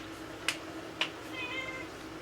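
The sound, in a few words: cat meowing in the background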